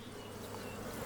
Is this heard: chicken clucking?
no